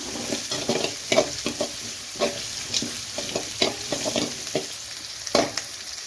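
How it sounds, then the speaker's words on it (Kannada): Medium-size onions fry in a pan for upma, giving a steady soft sizzle. Frequent sharp scraping and stirring clicks from a spatula sound over it at close range. "ಒಂದು ಮೂರು ನಿಮಿಷ ಈರುಳ್ಳಿನ ಫ್ರೈ ಮಾಡ್ಕೊಳ್ಳೋಣ"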